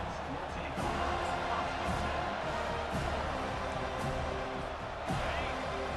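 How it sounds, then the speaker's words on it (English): A stadium crowd in EA Sports College Football 25 sends up a steady, dense roar of cheering and murmur through the whole stretch, with a play-by-play commentator talking over the top. "This crowd bringing the energy and noise early"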